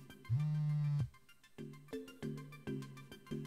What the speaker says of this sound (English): Just then, I heard a message alert.